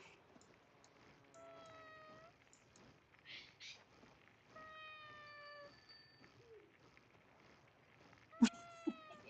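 A pet cat in the cozy video game Heartopia meows several times in drawn-out, dramatic calls spread across the stretch, with a sharper, louder cry near the end over quiet game ambience.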